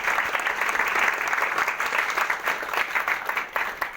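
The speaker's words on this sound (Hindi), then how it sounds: "उनके लिए जोरदार क्लैपिंग चाहूंगा।" An audience bursts into sustained applause for a senior colleague, a dense, steady wash of many hands clapping at once that holds for the full stretch without pause, heard close and fairly loud.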